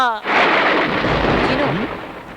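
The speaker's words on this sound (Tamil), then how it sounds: "வெளியில நல்லா மழை பெய்யுது" A loud rumble of thunder rolls out and lingers over a steady roar of heavy rain outside, filling the whole stretch close and dense after a brief tonal sound at the start.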